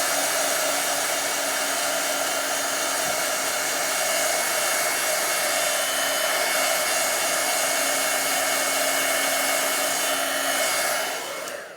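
A heat tool blows steadily to dry ink on a Bible journaling page, a loud continuous whirring hiss of fan and hot air held close for over ten seconds before cutting off at the end.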